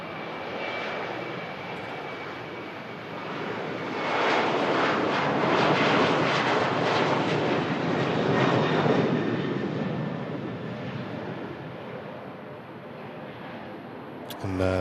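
An ATR turboprop airliner departs an airport bound for Guernsey, a broad engine roar swelling from a distance to a loud peak mid-way, then slowly fading, heard outdoors with no talk over it.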